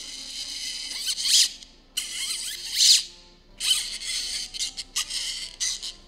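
An ammeter component from an electronics kit gives off high-pitched squealing bursts, loud and close, in irregular pulses with short gaps between them.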